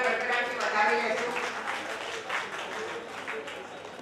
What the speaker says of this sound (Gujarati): આપણે સૌ એમને તાળીઓના ગડગડાટથી વધાવી લેશું.